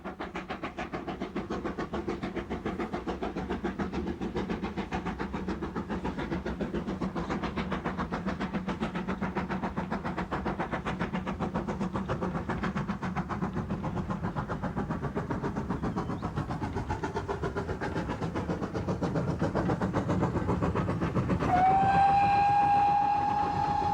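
A preserved steam locomotive works on the Gloucester and Warwickshire Railway near Toddington, making a steady rhythmic chuffing and rolling rumble, then a clear sustained whistle near the end.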